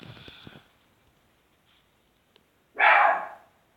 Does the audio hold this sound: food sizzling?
no